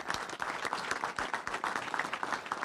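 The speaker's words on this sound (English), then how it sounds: "Round of applause for Representative Cabello." Crowd applause at a bill-signing event at a police department in Rockford, a steady round of many hands clapping with distinct sharper claps, heard at a moderate distance.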